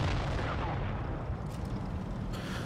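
A tank cannon firing in World of Tanks Blitz comes through as a dense, rumbling low boom that stays heavy and sustained throughout, with faint higher crackles on top.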